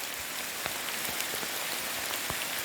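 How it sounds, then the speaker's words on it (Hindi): Heavy monsoon rain pours steadily in the Himalayas, heard from beneath a tree, a dense, constant hiss with scattered sharper drops striking close by, no voices. "इस समय बहुत तेज़ बारिश। हम लोग एक पेड़ के नीचे खड़े हैं"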